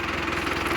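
A tractor with a rotavator working manure into soil, heard as a brief, steady mid-pitched engine drone with a slight knocking pulse, close and continuous.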